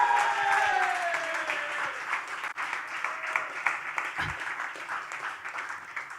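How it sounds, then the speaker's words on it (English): An audience applauds a graduating batch at a Le Wagon Lisbon coding bootcamp demo event. The clapping is loud at first, then thins into scattered claps that fade toward the end. "round of applause batch 86"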